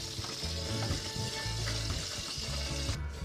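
Rice being washed in water while cooking chicken pelau in Paramin, Trinidad, a continuous close swishing, sloshing wash with a faint clink near the end.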